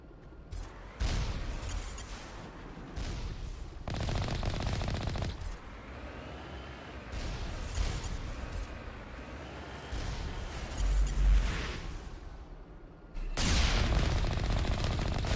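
Turrets in the video game Mass Effect firing in sustained bursts, dense rapid gunfire that repeatedly starts and cuts off, loud and close, with brief gaps between volleys.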